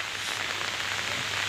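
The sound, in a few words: heavy rain falling on a village road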